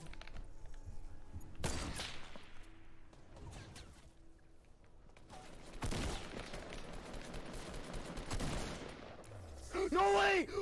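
Scattered gunfire in the original Fortnite, a few sharp shots spaced out over quieter game sounds, with a heavier burst of firing midway and a rising mechanical whine near the end.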